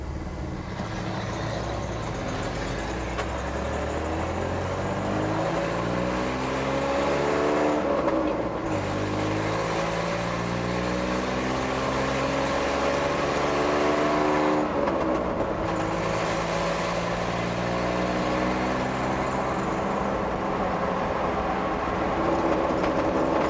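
A Chevrolet C10 pickup with a Tremec Magnum 6-speed and short-throw shifter drives hard, its engine note rising repeatedly with brief dips at each gear change, loud and close throughout.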